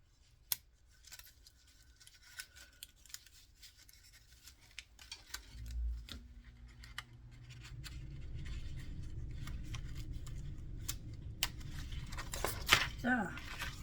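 Scissors cutting out paper pieces, a string of faint, sharp snips spread across the clip, with a low background rumble rising partway through.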